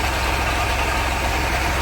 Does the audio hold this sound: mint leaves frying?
no